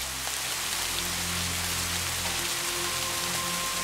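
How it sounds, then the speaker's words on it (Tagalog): Light rain drizzling steadily on a surface, a soft continuous patter with a faint low hum beneath it, even and unbroken throughout. "mahinang pagbuhos-buhos ng ulan o pag-ambun-ambun nito"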